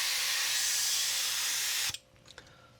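Paint sprayer misting unthinned black paint onto a fishing lure, a steady loud hiss that cuts off abruptly near the end, leaving a few faint clicks and quiet handling noises.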